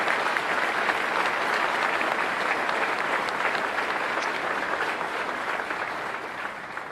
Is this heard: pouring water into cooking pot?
no